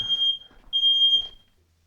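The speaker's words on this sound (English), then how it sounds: "It's good to know the smoke alarm works." A piercing, high electronic smoke alarm tone sounds in two sustained bursts with a short gap, loud and nearby, then fades to quiet.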